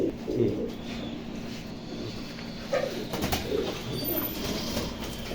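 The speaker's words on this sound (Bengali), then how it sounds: "এটা সৌদির কবুতর" Soft, low cooing from Saudi pigeons repeats over a steady, noisy background hum.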